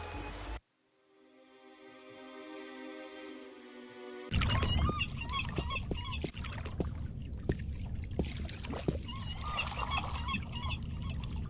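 A bird honks repeatedly in The Longest Journey adventure game, a goose-like call over a steady watery background, following a brief tonal hum and a sudden drop to near silence.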